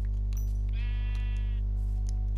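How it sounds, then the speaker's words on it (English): A Minecraft sheep bleats once, a clear wavering baa rising over a constant loud low hum and faint clicks in the background, with no talk. "Oh, I hear another sheep."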